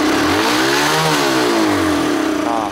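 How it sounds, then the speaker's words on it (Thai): A Kawasaki KSR motorcycle, started by remote with the throttle held open, revs up and down in a steady, loud, close engine roar that rises and falls in pitch for about three seconds. "ถ้าจะสตาร์ทที่รีโมทอันนี้มันบิดคันเร่งไว้นะครับรถมันจะเร่งหน่อยนะครับ"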